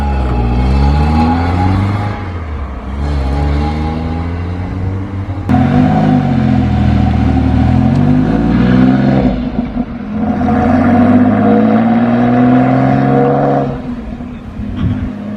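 A twin cam Alfa Romeo Spider sports car idles and revs loudly close by at an outdoor classic and sports car meet, its engine note rising and falling before it pulls away.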